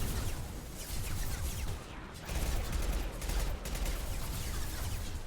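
Dense, continuous video-game gunfire in a Legendary-difficulty shooter, with rapid overlapping shots and bursts that roll on at a loud, steady level for several seconds, with no talking over them.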